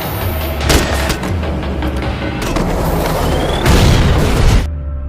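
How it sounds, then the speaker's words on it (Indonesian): A loud, sustained boom and roar of a car explosion in a film, with crackling debris and a second surge before it cuts off abruptly. "Martin pun mengaktifkan jebakan itu yang berhasil membuat mobil Hagan meledak"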